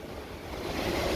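Rough sea surf crashes on a Jamaican coast, a loud, continuous roar of breaking waves that swells steadily, mixed with wind noise.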